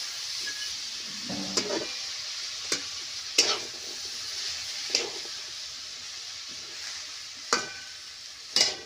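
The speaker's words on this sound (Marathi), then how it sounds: "ही चुलीवरची आपली झणझणीत भाजी चालू आहे" Bean pods (ghevda) frying in a pan on a wood-fired clay stove, a steady soft sizzle under repeated sharp scraping strokes of a spatula stirring the vegetables, with no voices.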